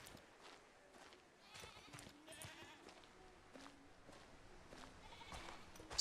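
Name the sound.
goats bleating in the distance in the video game Mundaun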